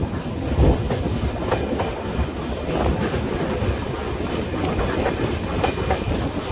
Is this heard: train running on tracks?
yes